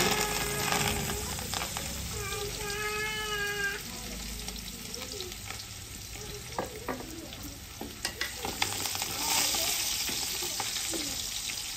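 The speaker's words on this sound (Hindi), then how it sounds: "घी हमारा जो है ना गर्म हो चुका है" Ghee heats in a pan with a steady close sizzle and frying crackle, joined by stirring scrapes and a brief meow-like cry early on.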